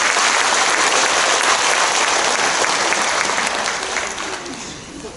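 Audience applause at a school entrance ceremony following an accordion performance, a dense, steady clapping from a crowd that holds loud then gradually fades toward the end.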